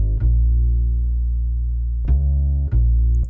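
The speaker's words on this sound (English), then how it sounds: "I don't know if I showed you the bass line for the chorus music" A deep, sustained synth bass line from the chorus of a hip hop beat, holding one low tone and then changing notes twice near the end, loud and alone without drums or voices.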